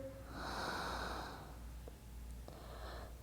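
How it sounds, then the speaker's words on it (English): Deep, slow breathing during a yoga stretch, heard as a close, airy exhale followed by softer breaths with faint rustling. "5 deep breaths"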